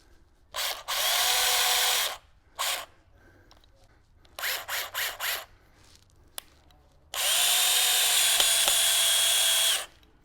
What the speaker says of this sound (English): We're going to do that with a drill and a Sharpie screw.